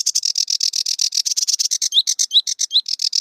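A sedge warbler sings a fast, scratchy, jangling song of dense repeated chirps and buzzy notes with occasional higher whistled phrases, close and steady without pause.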